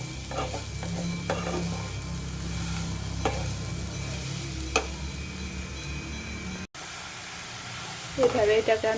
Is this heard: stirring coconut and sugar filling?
yes